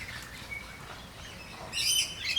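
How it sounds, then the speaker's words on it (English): Black-headed Manorina (Manorina melanocephala), a social honeyeater, gives bright chirping calls at a bird sanctuary, faint at first and then a louder burst of high notes toward the end. "Melanocephala, black-headed Manorinas."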